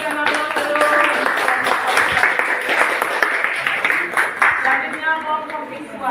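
A classroom group bursts into steady clapping after a student presentation, dense and close, with voices talking and calling out over the applause throughout.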